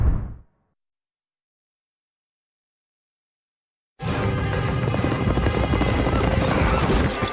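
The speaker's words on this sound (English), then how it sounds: "Your horse is challenging for the lead." Racehorses gallop down the final straight of a horse race, a dense rumbling of hooves and crowd-like noise that bursts in loudly after a few seconds of silence and continues steadily.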